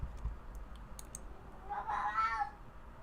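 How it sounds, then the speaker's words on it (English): A house cat gives one clear drawn-out meow midway, close and moderately loud, preceded by a few light keyboard clicks over a quiet room background. "You guys are hearing my cat talk to us."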